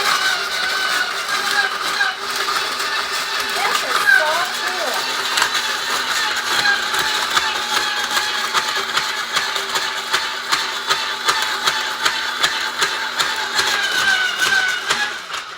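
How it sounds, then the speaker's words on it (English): An electric shaved ice machine grinding ice for Hawaiian shaved ice, giving a loud, steady mechanical whir with rapid rattling pulses running throughout, close by. "today is my first try to shave the ice"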